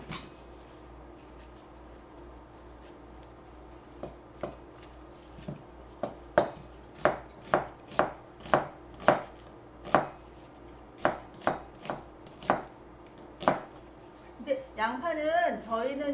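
An onion sliced with a knife on a cutting board, a run of sharp, evenly spaced chopping knocks that grow steady, then a voice speaking near the end.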